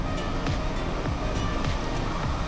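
Water poured out for a flock of a thousand layer hens in the morning, a constant loud rushing splash with faint chirps above it, no talking.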